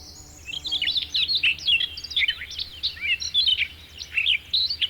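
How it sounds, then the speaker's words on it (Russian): Birdsong on a volcanic caldera lakeshore in the Kuril Islands, with a bush warbler, Siberian rubythroat, masked bunting and stonechat among the singers: a dense, continuous run of bright chirps and warbled phrases, fairly close and clear over a low background hum. "Можно увидеть и услышать пение разных птиц: бамбуковая широкохвостка, соловей-красношейка, маскированная овсянка, черноголовый чекан."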